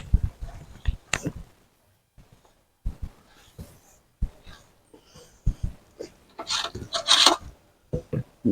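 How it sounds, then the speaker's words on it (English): A metal dustpan scrapes across a seed tray, levelling the soil flat in a series of short, rough, gritty rasps at close range, with irregular pauses between strokes. "cut it all off flat with the old trusty dustpan, metal dustpan"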